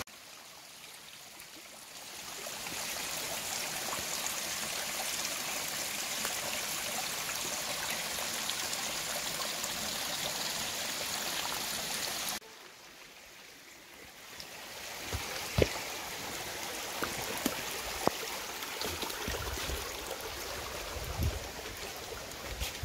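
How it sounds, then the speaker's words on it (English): A river near the base of Mount Taranaki runs with a steady broadband rush, softly distant. It drops abruptly partway through, then returns with scattered light knocks and handling noises. "So the river actually travels down"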